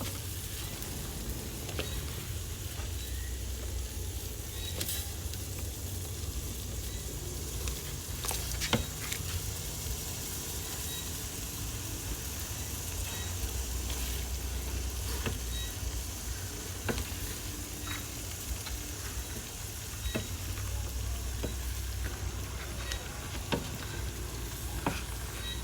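Wild mushrooms cook for soup with a constant bubbling sizzle and scattered sharp clicks from stirring, close and steady throughout the long stretch, with no talking.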